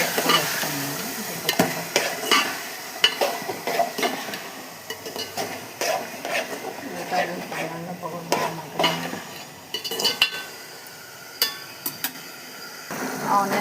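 Onions and potatoes fry in oil in a pan for an egg curry, a steady soft sizzle broken by frequent stirring scrapes and light clinks of a utensil against the pan.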